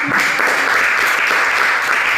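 A classroom of students gives a group a round of applause, a continuous, fairly loud patter of many hands clapping together without a break.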